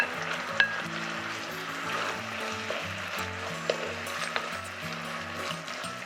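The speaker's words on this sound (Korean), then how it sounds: "소스가 끓어오르면 바로 죽순 넣어주세요." Sauce bubbling and sizzling hard in a wok as bamboo shoots go in, a steady close frying hiss with light clinks, while background music plays underneath, during a Chinese cookery certification practical for shredded pork in Beijing sauce.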